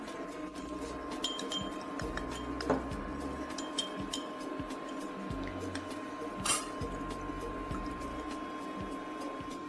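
A spoon works green pandan paste into sweet martabak batter in a bowl, giving light, scattered clinks and taps against the side. Two sharper knocks stand out over a steady faint background hum.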